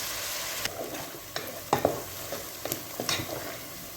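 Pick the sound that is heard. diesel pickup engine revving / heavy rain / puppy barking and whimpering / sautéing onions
sautéing onions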